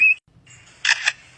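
Two crisp shutter clicks come in quick succession, mimicked by a lyrebird after a brief whistled note. The sound is close and loud with no talking.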